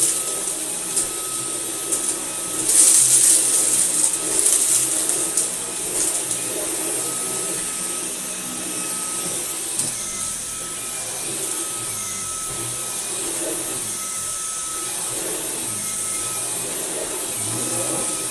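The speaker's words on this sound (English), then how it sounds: "Good little Hoover" A Hoover Commercial U7008 upright vacuum cleaner runs steadily and loudly throughout with a constant motor whine and broadband airflow roar, briefly rising near the start, with faint talk barely present.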